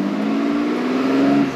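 BMW E36 325i fitted with an M3 intake, its engine held at a steady rev with a rising throttle blip, a loud continuous drone close by with no talking.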